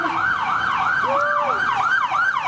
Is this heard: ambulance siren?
yes